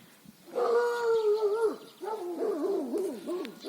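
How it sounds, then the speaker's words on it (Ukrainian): A neighbour's dog in a garden after rain gives a drawn-out, wavering, howl-like cry. It is fairly loud and close, with no talk over it, and runs for about three seconds in two long bursts. "Сусидский собака."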